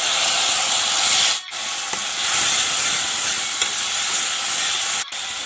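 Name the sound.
spice masala added to hot pan, sizzling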